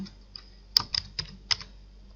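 A few crisp keystrokes on a computer keyboard while a web address is typed, four or five clicks spaced unevenly across about two seconds, close and clear with no talk.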